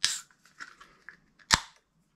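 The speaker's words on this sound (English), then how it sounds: "so we'll crack open the beer." A 330ml tin of Detour Pale Ale is cracked open, giving a sharp metallic click and hiss near the start, a few small crackles, then a second crisp pop, all close and fairly quiet.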